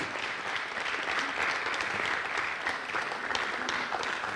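An audience applauds an award recipient in the second category at the African Readers Conference 2022, steady dense clapping filling the room throughout without a break and with no speech over it.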